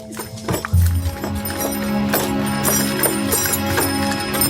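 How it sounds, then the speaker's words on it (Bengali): Two cows pull a cart as it sets off in an animated story. Rhythmic hoof clops and knocks repeat steadily, near and fairly loud, with no one talking. "হরিশ তার গাড়ির সাথে গরু দুটোকে বেঁধে বের হলো মাঠের উদ্দেশ্যে।"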